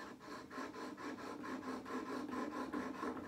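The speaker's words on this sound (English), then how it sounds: "work it back and forth on your stone" Honing blade clamped in a sharpening jig rubbed back and forth on an oiled sharpening stone, giving a steady rhythmic rasping scrape with about seven even strokes, close and continuous with no voices.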